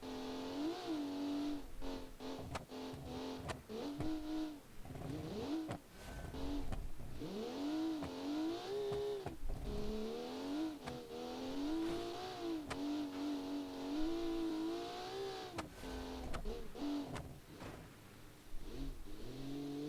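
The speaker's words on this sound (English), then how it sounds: "as you can hear, it's an inline 6 turbo engine" Inline six turbo rally car engine from a 1982 classic rally competition, revving loudly and continuously with rising and falling pitch through gear changes, close and alone for the whole stretch.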